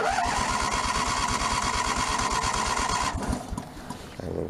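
A Snapper snow blower engine cranks and sputters, trying to start with choke applied: a loud, rapid rhythmic chugging with a steady pull tone that breaks off near the end, heard alone and close.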